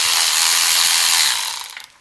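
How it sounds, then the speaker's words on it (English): A ratchet wrench clicks rapidly and evenly while loosening the front wheel bolt on a Yamaha YZ250FX dirt bike, close and crisp, slowing and fading out in the last half second. "Okay, that loosens the bolt on this side, but keeps the pinch bolt on that side."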